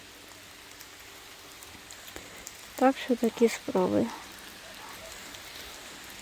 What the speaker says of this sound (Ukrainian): дощ не перестає і таке відчуття, що він тільки посилюється